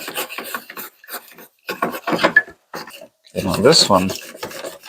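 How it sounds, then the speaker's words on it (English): Close, rasping scrubbing in repeated bursts as rust is worked off a Sargent 414 hand plane, with brief pauses between strokes and someone speaking briefly over it. "I'm just gonna keep scrubbing away."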